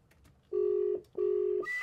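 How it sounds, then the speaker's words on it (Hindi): Phone keypad tones as someone dials a doctor's number: two long steady beeps with a short gap between, alone and close, followed by a brief burst of noise. "उसी डॉक्टर को फोन मिला रहे हैं"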